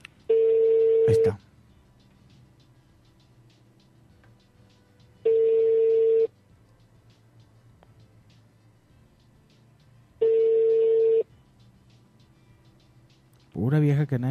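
A telephone ringback tone repeats at even intervals of about four seconds as a call goes unanswered, each tone loud and clear, followed at the end by a voice.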